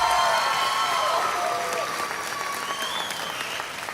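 A graduation audience claps and cheers, a steady, full burst of applause that gradually thins over a few seconds.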